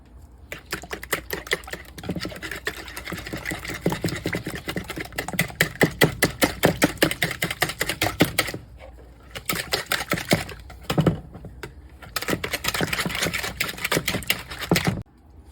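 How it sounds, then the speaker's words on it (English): Eggs are whisked with onion, salt and black pepper, giving a rapid, steady stream of close clicking taps against the bowl, with two short pauses near the end and no talking. "Onion, salt here, and some black pepper. Whisk."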